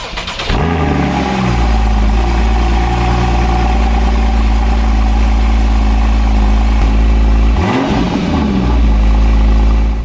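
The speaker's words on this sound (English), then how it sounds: "this is a cold start of a 981 Boxster S" Porsche 981 Boxster S cold-starting: the starter catches and the flat-six fires into a loud, steady, rumbling high idle, with a brief dip and rise in the engine note near the end.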